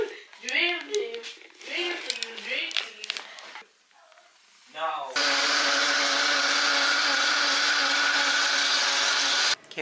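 Speech comes first, then a small blender making a smoothie starts up and runs as a steady, loud, close motor whir for about five seconds before cutting off.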